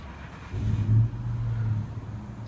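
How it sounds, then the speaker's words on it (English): A truck engine idles and then revs as it backs up, a low rumbling hum rising for a moment and holding steady before easing off, close and moderately loud. "back the truck up"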